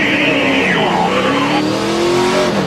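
A string of NASCAR Sprint Cup race cars roars by under caution at Watkins Glen in 2011, loud continuous engine whine with pitch sliding as each car passes close, no talk.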